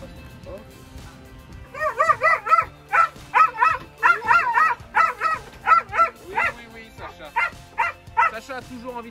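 An eager dog barks, yips and whines in a quick, uneven run of about a dozen sharp calls during a competition team's training session, close and loud, with quiet stretches between bursts.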